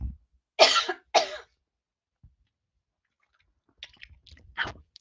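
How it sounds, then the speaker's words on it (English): Two loud, close coughs burst out back to back near the start, followed by silence and then a few softer throat-clearing and breathy sounds toward the end. "Excuse me, I'm going to cough again."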